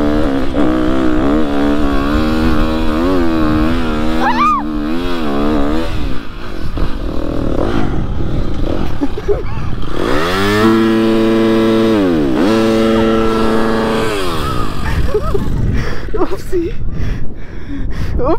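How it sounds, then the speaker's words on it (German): An enduro motorcycle's engine rises and falls in pitch as it accelerates and is throttled, heard close up, with a person talking over much of it. "Ja, ich glaube, ich muss langsam Gas geben."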